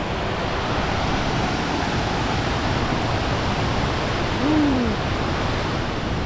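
Tad Khu waterfall in Pakxong, Champasak, Laos, a steady broadband rush of falling water filling the whole scene at moderate level, with a brief tonal call rising over it near the end.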